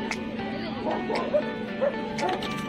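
Dogs at a pet dog show in Vizag yip and bark in short bursts amid a lively crowd, the calls fairly close and overlapping with background chatter.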